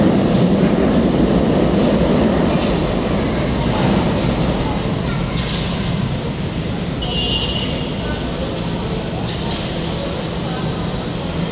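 An LRT light rail train at Balintawak station rumbles steadily close by, with occasional high metallic squeals and clicks over the low rolling roar; people talk in the background.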